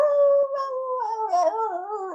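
A person imitating a wolf with a long, wavering howl that bends up and down in pitch for about two seconds, close and clear with no other sounds.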